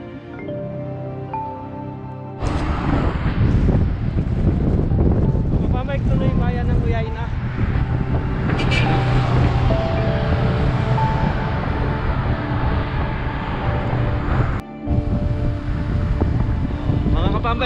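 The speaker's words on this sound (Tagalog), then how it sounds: "ganito kalakas yung hangin ngayon. May headwind kami." Strong headwind buffets the microphone on a long-distance bicycle ride, a loud, steady roaring rumble that begins abruptly and continues almost unbroken, with a rider's voice faintly present at times.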